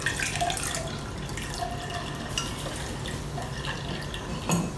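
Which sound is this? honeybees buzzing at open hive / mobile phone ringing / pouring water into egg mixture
pouring water into egg mixture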